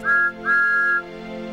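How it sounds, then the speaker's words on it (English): A bright two-part whistle from a cartoon steam engine on the Island of Sodor sounds up close: one short blast, then a longer held one, over a steady musical background. "Toby's new whistle."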